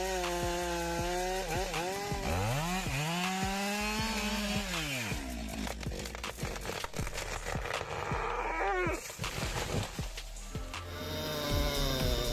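Chainsaw machines cutting wood with milling attachments for lumber, engines revving up and bogging down in long rising and falling whines, loud and continuous with crackling cuts throughout.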